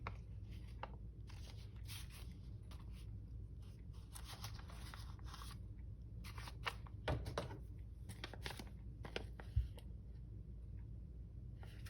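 Scissors snip through paper ephemera for a junk journal, a run of close crisp cuts and rustles in short bursts over a low steady hum.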